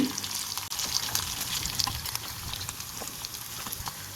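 Dried fish (karuvadu) frying in a pan, a quiet bubbling sizzle with faint crackles and stirring sounds, no voices over it.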